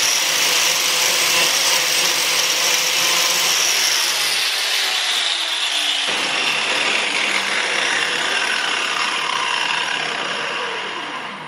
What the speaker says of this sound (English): I just take my grinder, just like if I was grinding a piece of metal